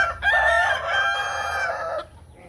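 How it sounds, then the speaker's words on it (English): A young rooster on a farm crows once in a single loud, close, drawn-out call that rises and then trails off after about two seconds, with no voices. "granted it's a rooster, but beautiful"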